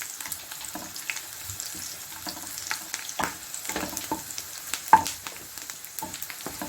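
Dates fry in a pan for sheer khurma with a quiet, crackling sizzle and scattered pops and stirring clicks, heard close with no speech.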